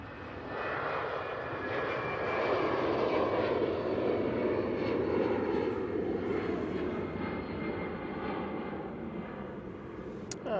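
An EasyJet airliner's jet engines roar loudly through a takeoff roll at Manchester Airport, a broad sustained rumble that swells and holds steady for several seconds before easing slightly as the aircraft climbs away.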